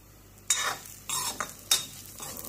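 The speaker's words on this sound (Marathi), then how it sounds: "आता छानपैकी खरपूस सोजी भाजून घ्यायची" Wheat semolina is roasted in a pan for payasa while a spoon stirs it, giving several short scraping, rustling strokes against a faint sizzling background, close and fairly loud.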